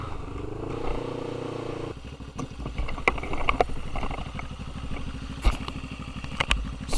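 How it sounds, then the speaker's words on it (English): A motorcycle fitted with a Black Widow 280 mm stainless steel exhaust runs close by, a steady low throb with rhythmic pulsing and a few sharper blips of throttle. No one talks over it. "As you can see, it's a Black Widow exhaust, 280mm stainless steel."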